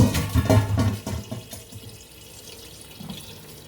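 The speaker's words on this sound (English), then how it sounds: "Fill up with water." Tap water runs into a cooking pot for a stewed pork knuckle, a loud splashing rush in the first second or so that quickly fades to a faint trickle and low kitchen noise.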